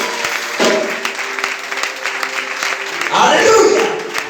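A church congregation at a prophetic revival service applauds loudly and steadily, with a rising swell of clapping and crowd noise near the end, while a voice carries over the applause.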